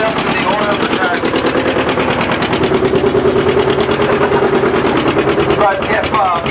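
A John Deere R tractor engine pulls hard under a prony brake dyno load at Rollag, a loud, steady rapid-fire barking beat throughout with people talking over it.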